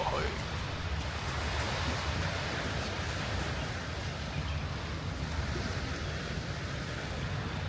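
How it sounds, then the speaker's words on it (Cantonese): Sea waves wash steadily onto the beach at Xunliao Bay in Huizhou, a continuous broad rush of surf mixed with wind, even in loudness throughout with no voices. "同大家聽住海浪聲一齊行過去。"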